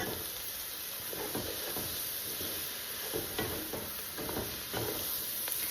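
About a pound and a half of mushrooms are stirred in a soup pot, a steady hiss and sizzle with soft scraping strokes from a spoon repeating irregularly throughout, close and fairly loud.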